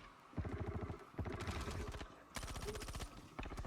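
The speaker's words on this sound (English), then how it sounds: "bunch of crazy ass guys shooting the crap out of everything" Automatic gunfire in the Star Citizen space game, with several rapid bursts of shots close and loud, separated by brief pauses.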